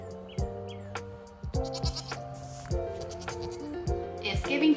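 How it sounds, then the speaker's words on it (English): Goats on a homestead bleat repeatedly, three or four moderately loud wavering calls at a steady pace, with some faint voice and rustle in between. "That's a bad goat."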